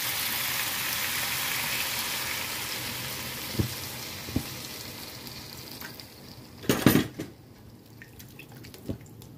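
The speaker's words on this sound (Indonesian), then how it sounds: "kita tambahkan air secukupnya" Water poured into a pan of simmering beef curry, a broad hissing sizzle fading over several seconds, punctuated by a few light clinks and a louder splashy burst near the end, no voices.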